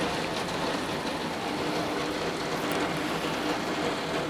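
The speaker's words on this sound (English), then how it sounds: "This is what chart-topping rain looks like." Heavy summer rain with thunder pouring down and overwhelming house gutters, a dense, loud, steady roar of water with no pauses, close by and continuous throughout.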